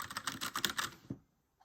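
Quick, crisp keystrokes on an Astrohaus Freewrite distraction-free writing keyboard. A brisk run of close clicks lasts about a second, then stops into near silence.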